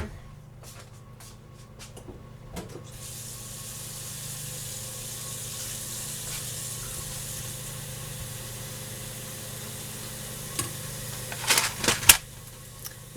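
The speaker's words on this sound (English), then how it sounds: "We're just heating everything up and gonna boil some noodles." A pot of pantry spaghetti ingredients heats on a stove with a steady low hiss and hum, punctuated by a few light clicks and clinks of handling near the start and end.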